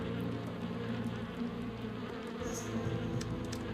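Bees in the video game Shadow of Rome give off a steady, dense buzzing drone, continuous and fairly loud, with no talk over it.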